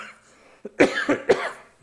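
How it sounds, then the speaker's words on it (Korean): A few harsh coughs in quick succession, close and loud, after a brief quiet moment. "기침이 이렇게 나왔네요."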